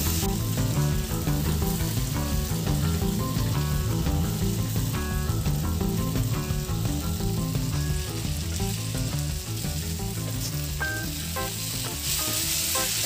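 Chicken perattu fries in a non-stick pan with a loud, continuous sizzle, while a utensil stirs it in repeated scraping, clinking strokes throughout.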